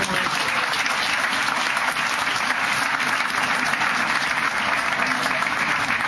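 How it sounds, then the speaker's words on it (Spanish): Sustained applause from a large church congregation, steady and dense clapping filling the room for several seconds. "Un aplauso al Señor."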